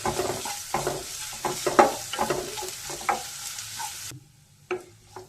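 Chopped small onions sauté in a pan, sizzling and frying while a spoon stirs and scrapes in repeated strokes, then the sizzle drops out near the end with one last stir.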